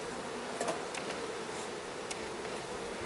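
Honeybees hum steadily at an open hive during queen introduction, a close, continuous buzz with faint ticks and small swells of individual bees passing near.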